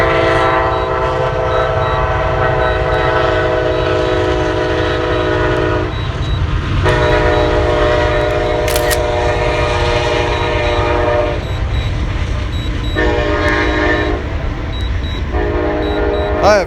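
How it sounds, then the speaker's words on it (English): A train passes close by with a loud, sustained horn blowing in long blasts over steady rumbling wheels, as heard from an airliner economy cabin setting with a drone-style view; the horn cuts in and out several times. "We got the train coming."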